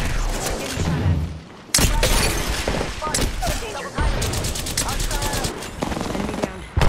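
Rapid bursts of video game gunfire crackle in repeated volleys, loud and close, broken by short pauses and sudden resumptions, with occasional talk beneath.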